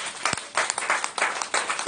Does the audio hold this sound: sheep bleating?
no